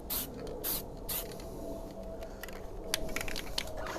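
A light dust coat of spray paint going onto a car, heard as short bursts of aerosol hiss with pauses between them at first, then a longer steady spray, close and fairly quiet.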